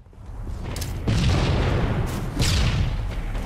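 Grenade blasts in Halo 3 multiplayer boom loudly, two or three heavy explosions in quick succession with rumbling tails, with no talk over them.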